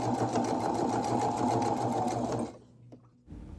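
A sewing machine runs steadily at speed, top stitching trim onto the turned edge of a Renaissance giornea bodice, a loud close rapid whir that stops abruptly, followed by a few faint handling clicks.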